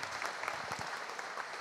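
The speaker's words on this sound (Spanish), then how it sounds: "Un aplauso," Brief, faint applause from an audience at a welcome event, a soft patter of clapping with no voices over it.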